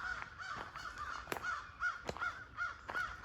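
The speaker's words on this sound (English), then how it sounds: "Keep hearing all these crows over here." Crows cawing in a wooded Missouri park: a run of repeated harsh caws in short bursts, moderately distant and fairly quiet, with no one talking.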